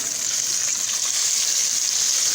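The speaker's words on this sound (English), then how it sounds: "lay it in the fryer" Flour-coated chicken fried steak laid into a deep fryer, giving a loud, steady hiss of bubbling oil that holds without a break.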